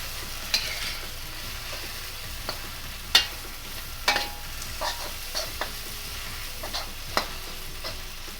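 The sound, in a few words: stir-frying bean sprouts and spring onion in a hot pan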